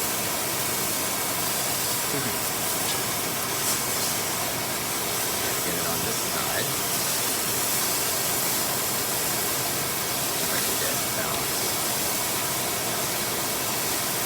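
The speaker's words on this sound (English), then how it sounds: "Which is why I am cooking up some pork steaks right now." Pork loin steaks sizzle in a cast iron chicken fryer with a steady, broad hiss and crackle of hot fat that carries evenly and unbroken for over fourteen seconds.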